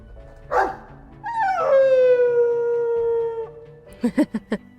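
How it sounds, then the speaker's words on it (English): A dog in the video game Dragon Age II gives a short sniff-like huff, then a long drawn-out whining howl, followed by three quick sharp barks. "I mean, he's just being a dog."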